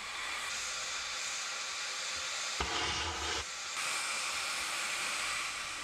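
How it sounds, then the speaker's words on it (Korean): Steady broad hiss of geothermal steam venting from the ground at a geothermal power site, continuous and fairly faint, with a brief rumbling surge in the middle before the hiss resumes. "땅속에서 올라오는 수증기가 마치 끓고 있는 주전자처럼 소리내면서 뿜어져 나오고 있다"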